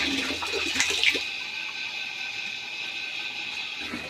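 Drinking water runs into a storage tank, a steady, close rushing flow that holds evenly for about four seconds with no voices.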